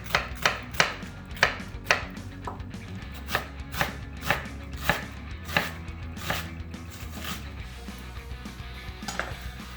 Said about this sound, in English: I'm going to chop up half a white onion.